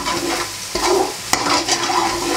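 Aromatics for Balinese pork soto stir-fried in a pan, with a steady close sizzle of hot oil broken by sharp scrapes and clacks of the spatula stirring every half second or so.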